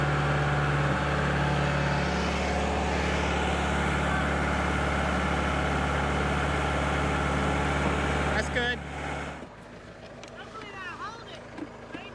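A tractor fitted with a front bucket idles steadily nearby, a constant low engine drone that holds for about eight seconds before cutting off, leaving quieter outdoor background and some birdsong.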